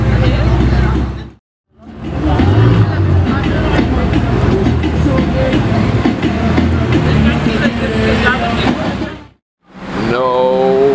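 A straight-piped Ferrari 488 Pista roars past up close, loud and sustained for several seconds, its engine note cutting out briefly at each end while onlookers react.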